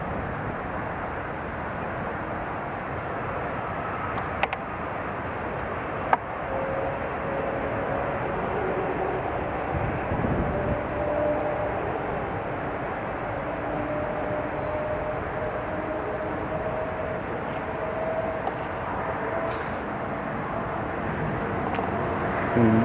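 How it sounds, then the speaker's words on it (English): Airbus A400 military transport aircraft making a low approach and go-around at Newcastle International Airport, a steady broad engine roar held at a fairly even level throughout, with faint tonal whine and brief clicks. "that's the A400 just about to come in for a last low approach and go around"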